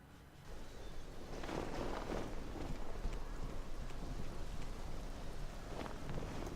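A steady, faint wash of rain and wind from a thunderstorm in the game Morrowind, a soft continuous hiss with a low rumbling undertone and no distinct thunderclap.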